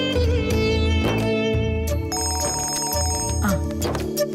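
A telephone ringing steadily in a household, loud, close and repeating its electronic ring pattern without pause, with no voices over it.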